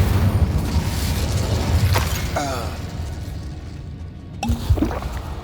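Incendio fire spell in Hogwarts Legacy: a low rumbling burst of magic with whooshing and brief sharp cracks, fading to quiet before another sharp strike near the end.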